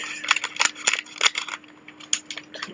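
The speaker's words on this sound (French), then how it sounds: "on va devoir prendre les ciseaux" Several sharp, crisp snips of scissors cutting, close by and irregularly spaced, with quiet pauses between cuts and no voices.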